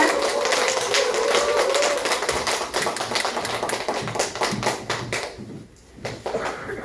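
An indoor audience gives a lecture speaker a welcoming round of applause, a dense close patter of clapping that thins and dips near the end before a few more claps.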